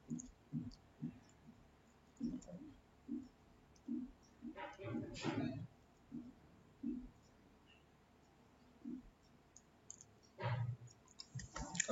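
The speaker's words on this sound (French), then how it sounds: "Donc, vous cliquez sur accusé de réception. On clique une fois." A computer mouse clicks several times as an online form is submitted, sharp close clicks spaced irregularly and heard under a person talking.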